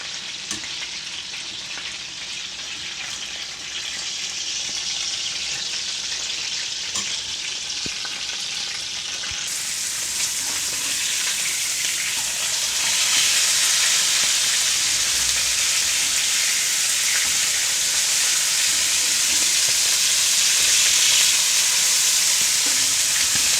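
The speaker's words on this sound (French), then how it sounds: "Maintenant, on va griller notre poisson salé." Salted fish grilling in a pan, with a dense, steady sizzle that swells noticeably partway through and stays loud and close, with no one speaking.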